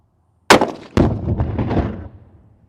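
A Tikka T3x rifle fires a single loud, close shot, followed by a sharp second crack and a rolling boom that fades over about a second.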